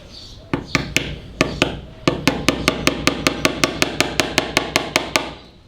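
Hammer on a small nail driving it into model railway track on a layout, about twenty sharp wooden taps in a steady quickening rhythm, close and loud.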